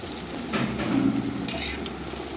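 Potatoes frying in hot oil in a wok for an ash gourd dish, a steady close sizzle with brief swells of stirring.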